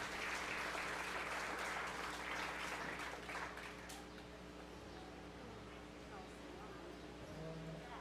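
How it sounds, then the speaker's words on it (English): Faint applause from spectators at a 4-H fair beef cattle show, fading over several seconds into quiet arena background with a low steady hum. "Let's give this man a round of applause, if you would,"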